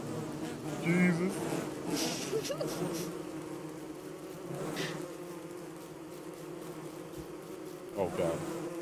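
A swarm of bees in the video game Don't Starve Together drones in a steady buzzing hum, with louder passes rising and fading as they move near, while players talk over it.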